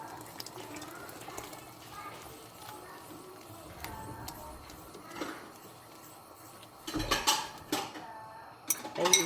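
A spoon or ladle clinks and scrapes against a cooking pot as beaten egg is quickly stirred into simmering chicken soup. Steady, light tapping grows louder and busier near the end, with a faint voice now and then in the background.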